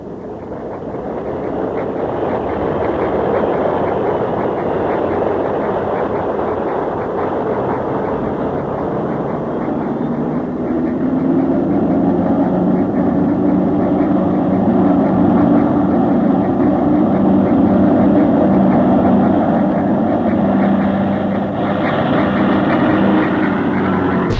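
A Lancaster Mark V heavy bomber's engines drone loudly and steadily for a night takeoff, with the roar building and deepening partway through. The engines run close and continuously, with no talking.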